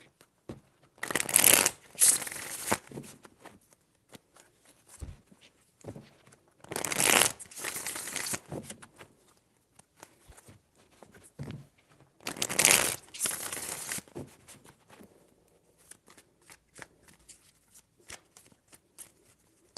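Three separate bursts of cards being shuffled, each a crisp riffle lasting about two seconds, with quiet pauses and faint handling noises between them.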